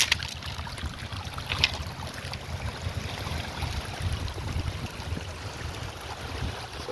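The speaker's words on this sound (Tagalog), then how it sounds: "nakakaginhawa pa yung tunog ng tubig dito sa maliit na sapa." Water running steadily in a small mountain stream, a continuous close gurgling wash with no voices.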